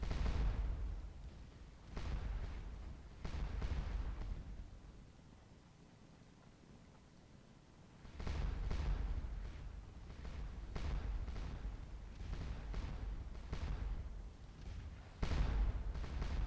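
Artillery fires in the Waterloo battle game Scourge of War, giving repeated booming reports with rumbling decays over steady background noise, some in clusters and some spaced apart.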